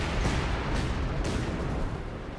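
Artillery fire in the real-time strategy game Company of Heroes 2: dense, continuous rumbling barrage with a few sharper bursts, loud and without speech.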